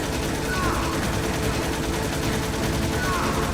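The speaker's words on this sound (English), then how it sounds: "The first time in the game they'll let you aim and shoot at the same time?" Gunfire from the video game Metal Gear Solid, a dense, continuous stream of rapid noisy shots at steady loudness throughout, with no clear gaps between bursts.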